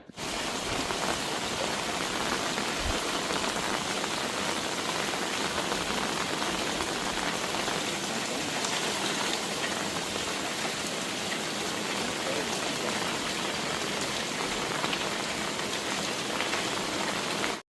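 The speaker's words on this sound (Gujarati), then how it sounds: "સવારથી ધોધમાર વરસાદ વરસી રહ્યો છે" Heavy monsoon rain pouring down in Valsad, a dense, steady roaring hiss of downpour that stays loud and unbroken throughout, with no voices.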